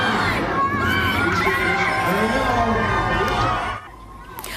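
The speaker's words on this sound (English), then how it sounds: "A lot of cheering as hundreds of Edmontonians celebrated the launch of Artemis II at a watch party at the TELUS World of Science" Hundreds of people cheer and shout at a rocket launch watch party at a science centre in Edmonton, a dense, sustained roar of voices that drops off near the end.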